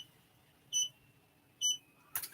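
Two short high-pitched electronic beeps from an embroidery machine sound about a second apart, clear against a quiet room, followed by a brief burst of rustling.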